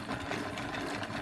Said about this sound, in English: just hand cranking this bobbin